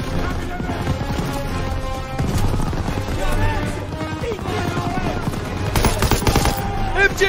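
Machine gun fire in a World War II Call of Duty battle, rapid bursts of automatic shots crackling over layered combat noise while soldiers shout orders throughout.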